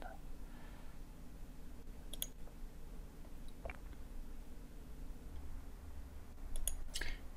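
A computer mouse clicks faintly while drafting in Inventor CAD software, a few sharp isolated clicks, some in quick pairs, spread over a quiet room hum.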